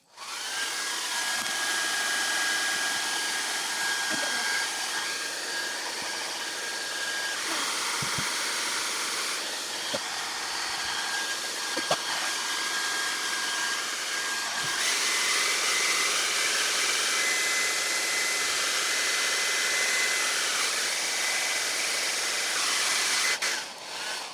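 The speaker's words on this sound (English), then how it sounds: "I'll start hair drying mine." A hair dryer blows steadily to dry a wet craft project, a continuous loud whooshing hiss that shifts in pitch slightly as it is moved around, running throughout with no talk.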